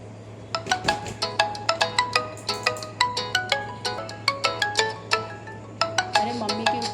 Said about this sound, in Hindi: अरे मम्मी की फोन आ रहा है